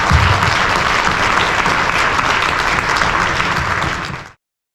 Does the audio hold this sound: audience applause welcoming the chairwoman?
yes